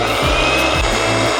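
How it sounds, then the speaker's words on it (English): Grinder crushing home-roasted coffee beans, a steady loud whirring grind with slight surges, heard close and alone. "Now we gotta grind the coffee,"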